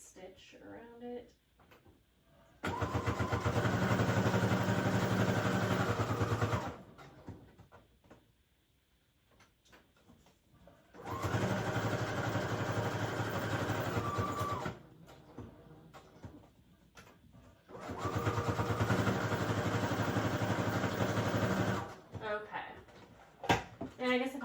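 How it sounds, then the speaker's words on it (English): A sewing machine runs a straight stitch around paper junk journal pockets in three steady, whirring bursts of several seconds each, separated by quiet pauses with light handling. "Now I'm just going to do a straight stitch around it."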